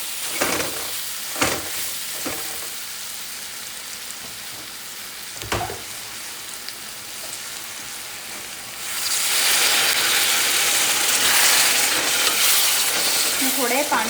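Pumpkin roasting in a home pan, a steady close sizzle with a few sharp clinks from stirring, then a louder, broader hissing surge as the frying intensifies toward the end, with no talk.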